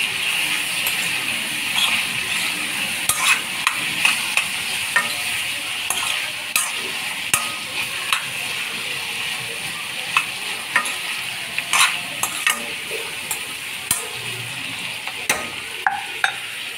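Tomatoes frying in a pan while being stirred for a bitter gourd curry, a continuous close sizzle with frequent light scraping and clinking of the spoon against the pan.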